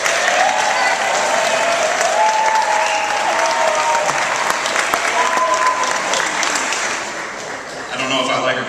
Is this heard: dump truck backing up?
no